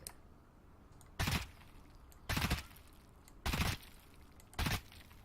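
An MP5 firing in Escape from Tarkov: four short, loud bursts of rapid shots at a roughly even pace, each separated by about a second of quiet.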